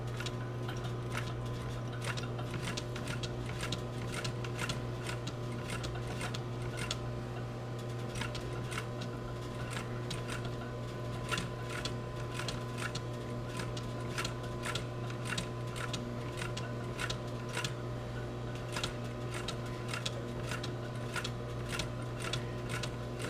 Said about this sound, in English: So I'll just sew this all the way around.